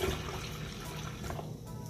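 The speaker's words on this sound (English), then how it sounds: "So we're gonna pour this out, strain off all the stuff that I put in there." Liquid from a fermented drink made with ginger is poured through a strainer, giving a steady close splashing, trickling stream that continues for about two seconds with no talk.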